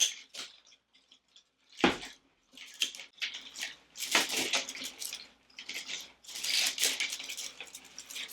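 Scissors snipping and crunching through a dried floral wreath, a series of close, crisp cuts and rustling stems with short pauses between them.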